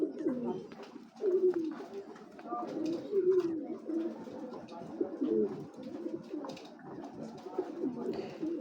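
Racing pigeons coo in a steady, overlapping stream of low, rolling calls from several birds close by, with faint bits of speech mixed in now and then.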